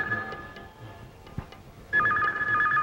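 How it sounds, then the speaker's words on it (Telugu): A telephone ringing indoors, a bright electronic ring tone that sounds clearly near the end after quieter faint tones and a soft knock earlier. "ఫోన్ రింగ్ అవుతుంది."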